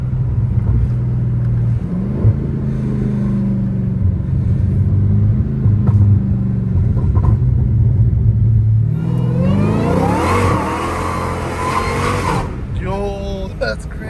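A Dodge Hellcat Redeye with straight-piped exhaust, valves closed, drones with a steady low rumble from inside the car, then revs and climbs in pitch near the end, with people talking over it.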